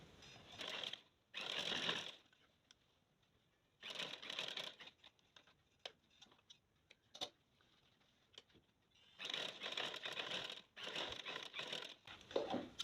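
A sewing machine stitches the neck of a shirt in several runs of quiet, rapid mechanical whirring. The runs are separated by pauses filled with faint handling clicks and cloth movement.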